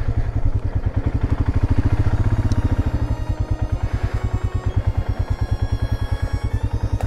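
A motorcycle engine idles close by with a steady, rapid low thumping pulse as the bike is moved into position at a campsite in the Albanian countryside, the putter running evenly throughout with no voices.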